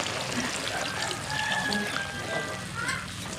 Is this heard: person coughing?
no